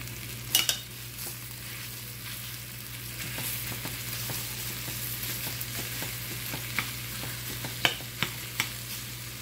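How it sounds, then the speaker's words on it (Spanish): Chorizo frying in a pan, a steady quiet sizzle with occasional pops and faint utensil taps, close by and without voices. "Vamos a poner a dorar el chorizo."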